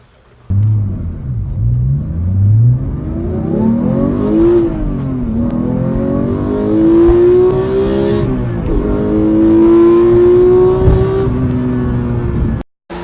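A Porsche engine revs hard while driving, climbing repeatedly through the gears in rising, loud, close harmonic sweeps with brief drops at each shift, then cutting off abruptly near the end.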